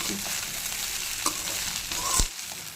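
Fried rice stirred and tossed in a hot pan, continuous sizzling with scraping spatula strokes and a sharp clack near the end, close and fairly loud with no talking.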